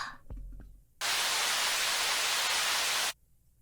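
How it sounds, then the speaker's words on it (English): In the video game Memory's Dogma, a call abruptly cuts to loud, harsh static hiss that holds steady for about two seconds and then stops sharply, after a few brief low tones. "Suddenly, Sorano's voice turns into static noise"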